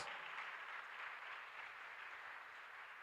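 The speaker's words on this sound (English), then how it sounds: "A round of applause, please." Faint, steady applause from an event audience honoring the coordinator of GoMAD10, a continuous wash of many hands clapping at a distance without any talk.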